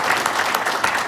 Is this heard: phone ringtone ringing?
no